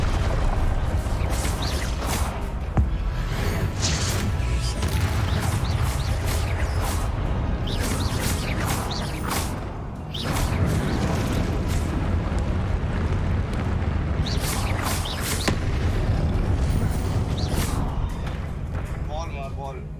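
Confringo fire-blast spells burst repeatedly in Hogwarts Legacy, a dense run of loud booms and crashes over constant game noise, with a player talking throughout.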